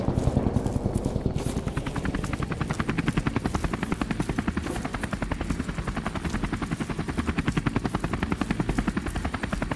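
A helicopter's rotor chops in a fast, steady rhythm with an engine drone underneath, loud and continuous throughout, in the video game Call of Duty: Modern Warfare Remastered.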